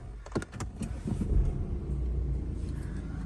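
A BMW 420d M Sport xDrive coupe with automatic gearbox cranks over and its diesel engine settles into a steady, close rumbling idle after a few short starter pulses.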